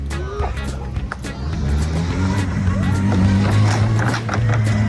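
A makeshift motorcycle with a whole Suzuki GSX-R 1000 engine stuffed into it runs loud and close, its rough roar surging and rising in pitch over several seconds.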